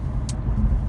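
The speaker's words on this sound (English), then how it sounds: "can kind of hear what automatic sounds like at 45 miles an hour" Inside the cabin of a six-year-old Infiniti Q50S automatic cruising at 45 mph around 1,700–1,900 rpm, a steady low road-and-tire roar with a soft engine hum runs continuously.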